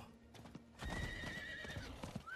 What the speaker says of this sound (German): Mein Pferd.